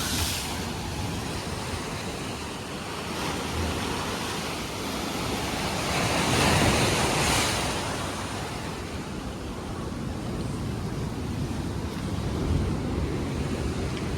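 Ocean surf rolls in a steady broadband wash, swelling louder in the middle and again near the end, with wind buffeting the microphone and no voices.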